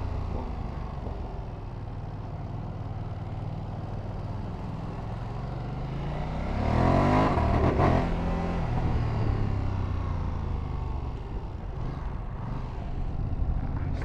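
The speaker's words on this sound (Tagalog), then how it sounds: "I love the quick shifter. Smooth rin yung auto blip niya." A Ducati Panigale V2S motorcycle engine revs, then sweeps up through quick-shifter gear changes with auto-blip. The roar swells loud near the middle and eases off, with steady engine noise around it and no talk.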